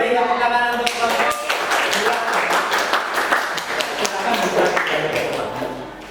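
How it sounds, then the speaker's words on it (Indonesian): Students in a classroom clap for a presenting group, scattered uneven claps over several seconds while a voice keeps talking over them. "beri tepuk tangan untuk kelompok"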